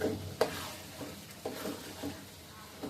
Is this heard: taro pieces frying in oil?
yes